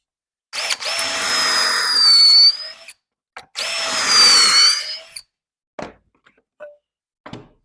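A power drill whines in two sustained close bursts, boring pocket holes in wood for an Adirondack chair, followed by a few light knocks and taps.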